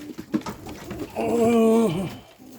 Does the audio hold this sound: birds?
yes